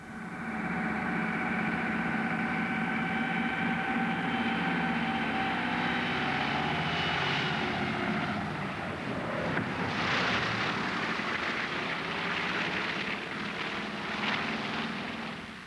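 A propeller airplane drones steadily overhead on a flight toward Thule, its engine tone shifting as it circles and returns to land, loud and continuous throughout.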